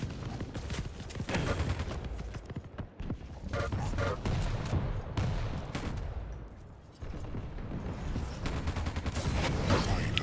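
Fireball weapons hitting in a fast arena shooter game, heard as a dense barrage of explosive impacts and gunfire bursts near and loud, with brief gaps between volleys.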